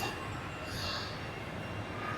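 A Japanese rapid train rolls along the railway track on the Tokyo to Myoko Kogen route, giving a steady, moderately quiet rumble and hiss with no talking.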